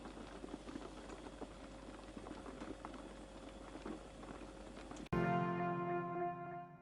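Soup bubbles at a boil in a pot in a village kitchen, a faint, steady crackling patter of bursting bubbles for about five seconds, cut off by a sudden louder ringing clatter.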